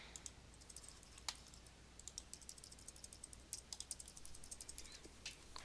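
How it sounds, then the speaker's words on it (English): Arrow keys on a computer keyboard are tapped in quick, uneven bursts of light plastic clicks, close and fairly quiet with no talking. "I'm just using my arrow keys to push things up."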